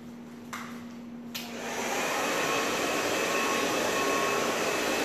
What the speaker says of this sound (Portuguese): Agora deixa eu ligar meu secador.